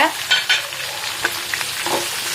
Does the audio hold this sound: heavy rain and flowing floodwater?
no